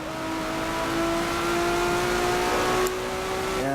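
A car engine in a Forza 7 race revs hard and climbs steadily, loud and close, with a sharp gear change near the end.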